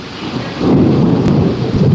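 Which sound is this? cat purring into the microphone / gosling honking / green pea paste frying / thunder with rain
thunder with rain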